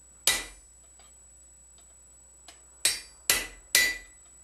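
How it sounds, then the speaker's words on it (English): Hammer and chisel strike hot steel on a forming block while a blacksmith creases a leaf shape: one sharp ringing blow, then a pause with a faint tap, then three more quick ringing strikes, close and clear. "I'm going to place it on our forming block with our chisel and start to create this crease that you normally would represent a leaf"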